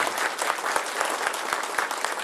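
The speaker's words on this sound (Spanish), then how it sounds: "vamos a darle un aplauso a Luis Antonio por estar aquí." Applause fills a church service, a dense, steady wash of many hands clapping at once, loud and continuous throughout.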